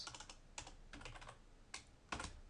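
Quick bursts of keystrokes clatter on a computer keyboard while Arduino code is entered, several short clusters of taps spaced irregularly across a couple of seconds, close and fairly quiet, with no voice.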